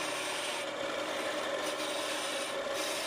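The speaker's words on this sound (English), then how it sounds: "Now, of course, I'm using my skew chisel to bring the entire thing down to about 3/4 inch." A skew chisel cuts a spinning wood blank on a lathe, reducing a Christmas ornament to about 3/4 inch: a steady, close, continuous rasping scrape with slight swells in intensity, no voices.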